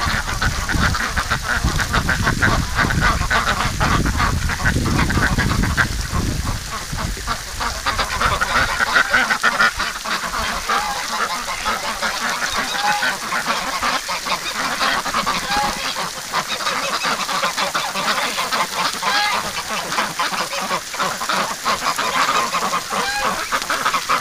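Wintering domestic ducks and geese make a loud, dense chorus of quacks and honks from close by, calling continuously and overlapping throughout, with brief honking bursts standing out.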